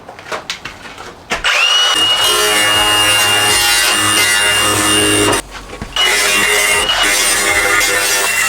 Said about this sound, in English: Now we're going to file down the edges and then we'll be ready for paint so it doesn't rust.